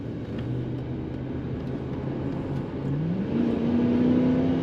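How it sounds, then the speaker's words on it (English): A 1983 Oldsmobile Toronado Brougham accelerating after a throttle kick-down, its steady engine drone rising in pitch toward the end, heard from inside the car with no talking. "Pushing the throttle down, the kick down does work. And acceleration is what you would expect."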